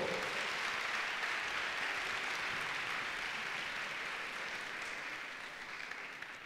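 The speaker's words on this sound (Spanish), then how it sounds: "Fuerte el aplauso para Alex Oxenford." Audience applause welcoming speaker Alec Oxenford at an event, a broad sustained roar of clapping that starts strong and slowly thins toward the end, with no speech over it.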